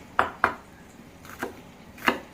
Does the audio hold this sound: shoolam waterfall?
no